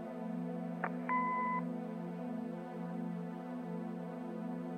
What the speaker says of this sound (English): Leave a message after the beep.